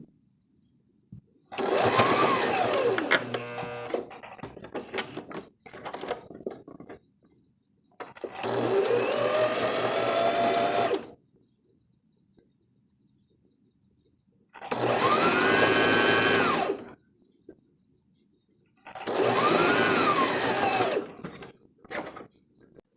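A sewing machine stitching the openings of a smocked frock runs in four steady whirring bursts, each several seconds long, with quiet pauses between.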